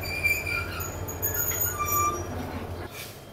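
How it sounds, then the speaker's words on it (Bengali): A train pulls into Cox's Bazar railway station with steady rumbling wheels and sharp, high squeals of wheels on the rails. The sound comes from close by and runs on for the full stretch. "এই 7:44-এ আমাদের ট্রেন এসে কক্সবাজার রেল স্টেশনে থামবে"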